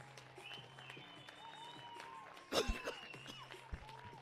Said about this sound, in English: getting a good ovation from the crowd